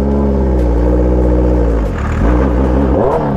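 Superbike engine idling loud and close, then revving up twice as the clutch is let out at a wedding, a deep steady rumble rising in pitch, with no talk over it.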